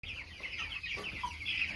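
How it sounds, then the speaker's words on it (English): Broiler chickens in a backyard pen clucking nearby, a steady chatter of soft repeated clucks and murmurs from several birds, with no speech. "Yep, these are the broilers."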